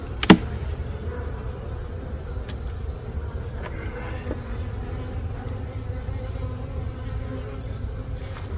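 Honey bees buzz around an opened hive as it is checked before winter, a steady, dense, close hum with a sharp knock at the start, with no talk.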